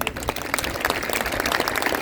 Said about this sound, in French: Je voudrais vraiment des très très beaux applaudissements.